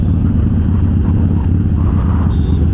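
A Harley Sportster with Vance & Hines Twin Slash 3-inch slip-on exhaust and free-flow intake idles close and loud, a deep, steady, lumpy rumble that holds alone for nearly three seconds.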